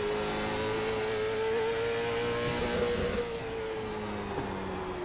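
A Late Model Stock race car at Hickory Motor Speedway in the iRacing simulator drones loudly at full throttle. The engine note is steady and sustained, with a slight pitch dip midway, and no one speaks.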